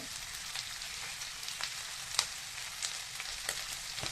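A whole chopped onion sizzles in a hot pan, giving a steady hiss with small crackles and pops that continues on its own with no voices.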